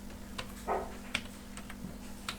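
A computer keyboard is tapped to type a search, a sparse run of quiet individual keystrokes over a faint steady electrical hum, with no talking.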